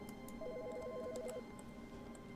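An alternating two-tone electronic telephone ring sounds for about a second in The Stanley Parable video game, over a steady low ambient hum in a quiet office setting.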